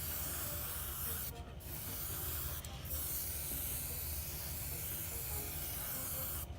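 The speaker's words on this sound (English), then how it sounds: "You heard that little noise from the airbrush." Steady, close airbrush hiss spraying metallic paint runs continuously, with a couple of brief pauses where the spray cuts out before resuming.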